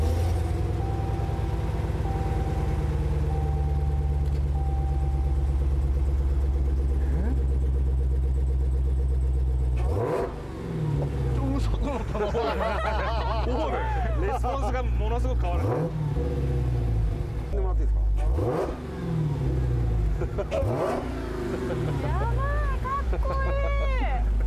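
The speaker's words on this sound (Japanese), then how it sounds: "持ったままエンジンスタートですね。" A Dodge Challenger SRT Demon engine starts and revs loudly, a deep steady rumble punctuated by several rising revs up close, with wind buffeting the microphone.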